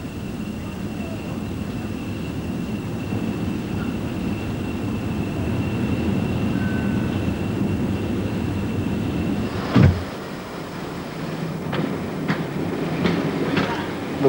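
A train rumbles steadily at Exeter Central station, with a sharp clank and a series of metallic clicks and squeals as it moves along the rails.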